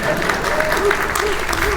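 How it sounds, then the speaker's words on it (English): Audience applause at a city's State of the City address fills the short stretch, a steady wash of clapping from a seated crowd that holds without a break. "It's okay to clap."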